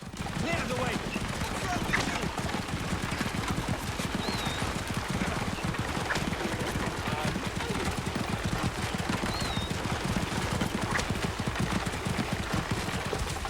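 Horse hooves clip-clop steadily in Assassin's Creed Origins on a road trip from Alexandria to Krokodilopolis, a dense continuous rhythm with faint whinny-like calls and game ambience, and a voice talking over it.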